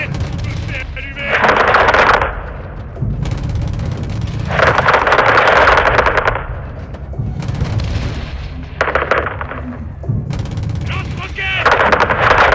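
Call of Duty: Modern Warfare II campaign battle with rapid machine-gun bursts, booming rocket-launcher blasts and heavy artillery-like explosions coming in repeated loud waves, with shouted soldier voices between the volleys.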